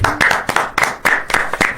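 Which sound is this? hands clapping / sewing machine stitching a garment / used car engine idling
hands clapping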